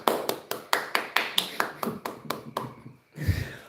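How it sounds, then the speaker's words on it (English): A small audience claps for Spencer Pratt and Sabrina Carpenter on a comedy talk show, about a dozen evenly spaced hand claps in a steady rhythm, close and fairly quiet, ending in a short low rumble. "So give a round of applause to Spencer Pratt and"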